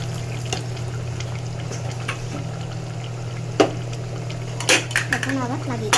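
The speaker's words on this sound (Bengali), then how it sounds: "পরিমাণ মতো একটু পানি দিয়ে দিচ্ছি" Water poured into a pot of duck and potatoes being cooked in a pressure cooker: a steady low hum under light trickling, with a few sharp metallic clinks of the pot and utensils near the end.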